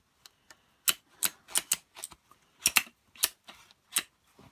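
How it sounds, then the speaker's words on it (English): The spring-loaded ball-bearing adjustable guard on an Aldi Ferrex 40-volt cordless angle grinder is rotated through its positions, giving a dozen or so crisp, close clicks in an uneven rhythm against near silence. "I love this adjustable guard, spring-loaded ball bearing type, very positive click between"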